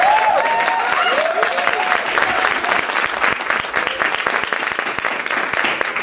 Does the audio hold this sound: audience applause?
yes